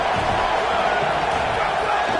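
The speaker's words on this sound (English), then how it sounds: "this crowd is turning it up a notch" A stadium crowd at a college football game swells into a dense, loud, continuous roar of cheering that fills the whole moment without a break.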